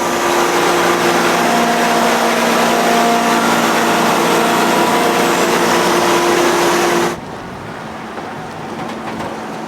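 Engine of a farm vehicle moving a grain cart toward the shop, a loud steady close-up drone with a constant tone that cuts away abruptly to quieter background noise near the end.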